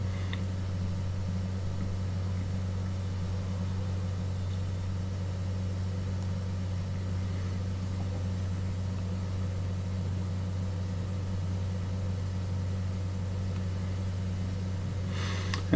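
A new apartment boiler system's circulation pump runs steadily near its minimum output, a constant low hum with faint mechanical noise, close and unbroken throughout.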